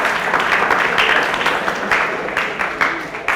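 A crowd at a school centenary celebration breaks into steady applause, many hands clapping loudly and continuously in a large gathering, slowly tapering.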